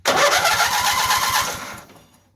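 A small auction lawn mower engine cranks over strongly and catches, a loud rapid chugging burst close by that runs for about a second and a half, then fades out.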